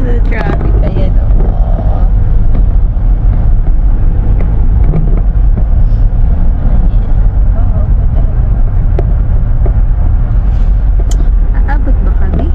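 Road traffic rumbles from inside a moving car on the route from Lahaina to Kula, a loud steady low engine and tyre drone with wind buffeting and occasional knocks, while people talk over it.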